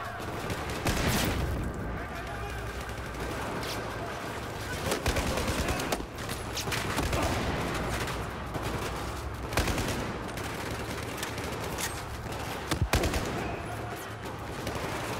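Rapid automatic gunfire and bursts of shots from the first-person shooter Battlefield 4, dense and continuous across the whole stretch, with sharp louder cracks standing out among steady battle noise.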